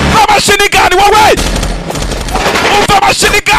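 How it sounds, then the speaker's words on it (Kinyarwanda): Machine gun fire from a war movie scene involving an American military boat, rapid loud bursts of shots crackling in quick succession, with a voice talking over them. "Umva umututu w'imbunda."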